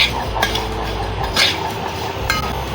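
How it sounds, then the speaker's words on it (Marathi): Thick poha dry-roasts in a kadhai on an induction cooktop, giving a continuous rustling crackle with a few sharp scraping clinks from stirring, close and moderately loud. "ते चांगले कुरकुरीत करून घ्यायचे, सुकेच भाजतोय आपण"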